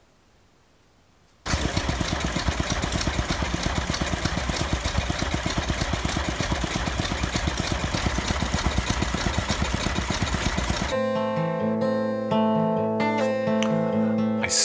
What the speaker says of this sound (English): the car is on right now and the engine is running